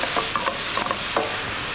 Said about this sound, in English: we toast those a little bit just to release the aroma of those spices